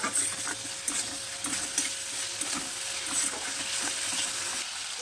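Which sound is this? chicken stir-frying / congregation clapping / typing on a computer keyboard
chicken stir-frying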